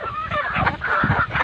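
Three-month-old young roosters (stags) clucking and calling in a flock, overlapping busy bird sounds close by with no clear talk.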